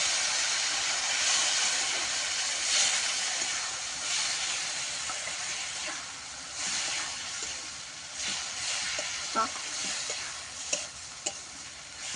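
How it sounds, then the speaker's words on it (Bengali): A steady, hissing sizzle of taro greens frying in a pan with onion and garlic, with occasional soft stirring and scraping sounds. "পেঁয়াজ রসুন ভাজা হয়ে আসলে শাকটিকে দিয়ে দিতে হবে।"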